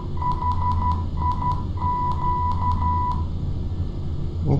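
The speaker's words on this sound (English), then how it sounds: "that is the Morse code for the instrument" An ILS instrument approach Morse code identifier in a flight simulator game plays as a steady mid-pitched electronic tone keyed into dots and dashes, repeating in short groups over a low cockpit hum.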